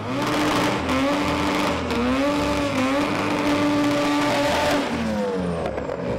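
A 1.6 litre Honda Civic EK front-wheel-drive drag car launches off the line at a drag strip, its engine revving hard and climbing in pitch through a couple of shifts, loud and close.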